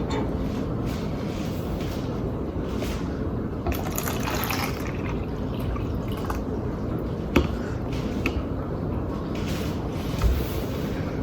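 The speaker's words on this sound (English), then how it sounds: "You pour a bunch of water into a cup" Water poured into a cup for a kindergarten floating-raisins experiment, a steady liquid splashing and trickling that runs the whole time, fairly close, with a couple of small clinks.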